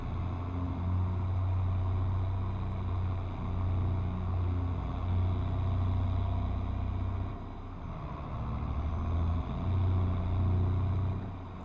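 A small Ford tractor in Farming Simulator 22 works around a farmyard, its engine droning steadily at moderate loudness with a low hum that dips briefly and then returns.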